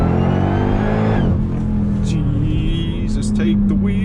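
A 1000 hp Dodge Durango Hellcat pulls hard with a loud, close, rising engine roar that dips at a gear change around the middle and climbs again, while people speak over it.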